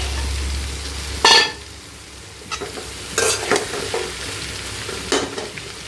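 Onion frying in oil, stirred now and then: a low, steady sizzle broken by a few sharp scraping stirs, close and moderately loud, with no talking.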